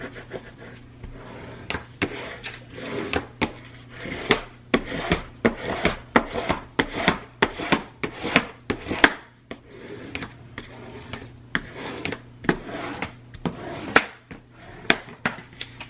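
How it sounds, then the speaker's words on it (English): A scrapbook album cover being burnished by hand: a close, steady run of rhythmic rubbing strokes, each a short raspy swipe, repeating about twice a second with no talking. "I'm going to flip it over and I'm going to burnish."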